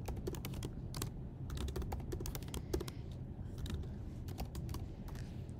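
Rapid typing on a computer keyboard while shortcut keys are pressed in a drawing program, with dense clicking keystrokes, some in quick bursts, close and steady for several seconds, and no voices.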